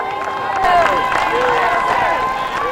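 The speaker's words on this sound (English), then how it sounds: "people were cheering us" A crowd cheers and calls out for firefighters walking back to their firehouse after the 9/11 attacks, a steady wash of overlapping voices, whoops and scattered clapping that stays loud throughout.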